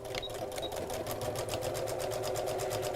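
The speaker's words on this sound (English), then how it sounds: "I'm literally going to sew all the way around the edge" Sewing around the edge of a scalloped flap clutch bag, a machine runs in a steady, rapid rhythm of stitch pulses, close up and continuous, with no one talking.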